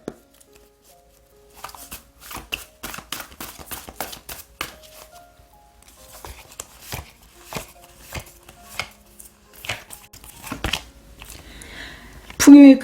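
Oracle cards shuffled and handled for a tarot reading, a run of crisp, close flicks and taps in irregular bursts, with a louder rustle near the end.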